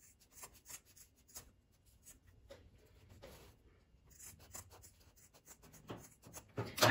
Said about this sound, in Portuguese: Agora eu vou cortar esse excesso.